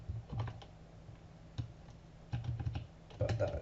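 Computer keyboard typing while setting up a Java program, in short bursts of quick, close key clicks separated by brief pauses, with no voices.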